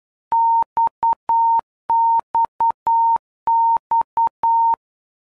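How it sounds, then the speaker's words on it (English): A clean, steady electronic tone beeps out the Morse code distress-style signal XXX, each dash-dot-dot-dash letter keyed three times in crisp, evenly spaced bursts against silence, with no voices. "The sound signals are Morse code"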